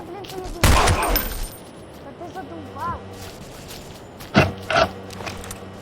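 Short bursts of rapid P90 submachine gun fire crackle twice in the video game Blockade amid game sound effects and faint mechanical clicks, with a brief gap between volleys.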